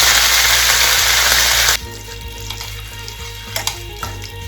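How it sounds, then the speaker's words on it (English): Curry leaves hitting hot oil for a tamarind pickle tempering: a loud, dense spluttering sizzle that cuts off abruptly to a quieter background with a few faint clinks. "Now into this oil, I'm going to add this curry leaf"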